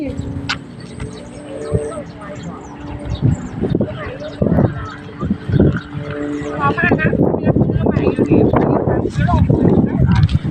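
A herd of water buffalo by a stream near a village gives deep lowing moos, some near and some farther off, mixed with splashing and outdoor rumble while someone talks over them.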